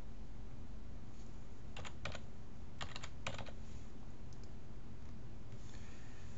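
A password being typed on a computer keyboard: a few quick clusters of soft key clicks over a steady background hiss, with no talking.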